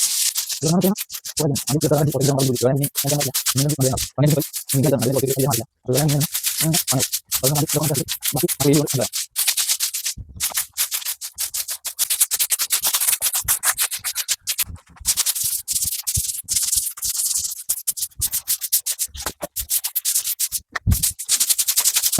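A large broom sweeps debris across a floor in a messy house, giving steady close scratchy brushing strokes, with a denser rhythmic stretch early on, then continuing as busy bristle scraping.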